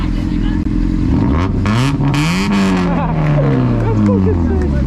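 Mazda Miata engine revving hard and loud up and down in a rising then falling sweep at a night car meet, close by, with excited voices talking over it.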